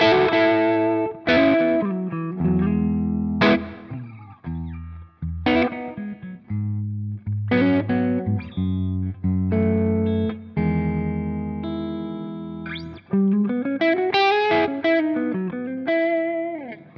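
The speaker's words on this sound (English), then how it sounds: "If I threw the reverb on here, you can hear I got a room kind of reverb going on." Electric guitar plays chords and single notes with a light crunch, each ringing out into a roomy reverb tail.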